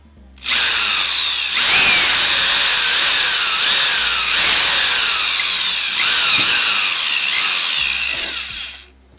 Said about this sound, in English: So let's drill this.